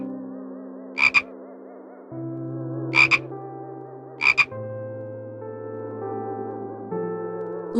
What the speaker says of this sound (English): Look, here is a frog.